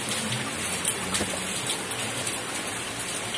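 Steady rain falling outdoors, a dense, even hiss of drops with soft patters on surfaces, continuous and close throughout without any talking.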